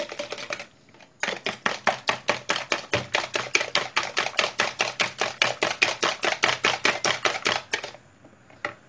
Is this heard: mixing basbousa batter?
yes